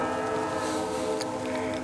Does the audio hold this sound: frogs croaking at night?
no